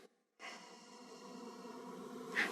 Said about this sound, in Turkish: Burnumuzdan derin ve yavaş bir şekilde nefes alıyoruz.